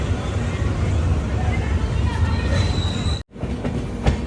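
Patna Express pulling out of Ernakulam Junction railway station, a steady close rumble of the moving train with rail clatter and brief metallic squeals, a short sharp break in the noise near the end, and voices faintly mixed in.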